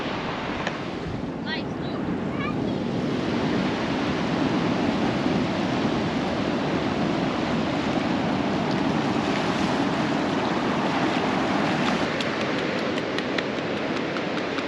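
Ocean swell and waves wash into a bay sheltered by a reef and sand dunes while an easterly wind blows, a constant dense roar of surf mixed with wind rumble across the microphone.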